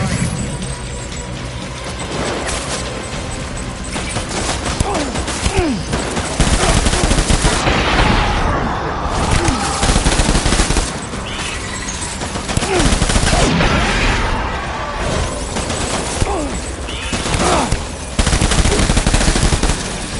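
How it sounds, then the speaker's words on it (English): Heavy gunfire from the video game Death Stranding comes as loud, dense automatic bursts and rapid shots that keep hammering in waves for the whole stretch, with mechanical clatter and impacts mixed in. "Open fire."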